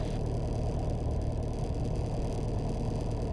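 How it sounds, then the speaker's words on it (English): A light aircraft engine revved to about 1800 rpm, a steady drone with strong low rumble, running continuously and loud throughout, no voices. "we want to increase the revs to the throttle to about 1800"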